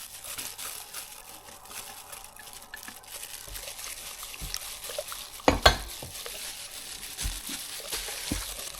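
Cassava cake batter with flour and egg yolk is stirred in a bowl, a continuous wet swishing and scraping with a couple of sharper knocks of the utensil, close and steady.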